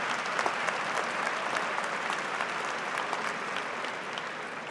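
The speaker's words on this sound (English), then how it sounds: "please give a huge round of applause to the faculty and staff that have made it" A large commencement crowd gives a sustained round of applause for faculty and staff, a thick, continuous roar of many hands clapping, fairly loud and steady from start to finish.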